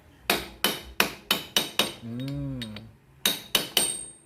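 Metal strikes ring out while the lock nut on a Yamaha Vega R kick starter is tightened, six sharp evenly spaced blows, a short pause with a warbling tone, then three more quick hits, close and loud.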